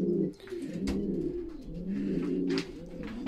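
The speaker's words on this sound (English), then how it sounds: "Lovely pigeons." Racing pigeons coo in their loft, overlapping soft throaty rolling calls repeating in a steady rhythm, close and moderately loud with no talk.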